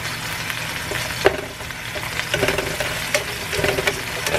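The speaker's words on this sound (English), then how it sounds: "Let's saute for a minute before you add the broccoli." Onions sauté in a pan, giving a steady close crackle with scattered pops and stirring scrapes. No one speaks.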